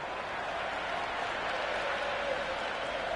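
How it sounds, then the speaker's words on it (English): Crowd at a cricket match applauding and cheering, a dense continuous wash of clapping and noise from a large audience, steady and moderately loud throughout with no clear talk on top. "The crowd are really getting quite raucous."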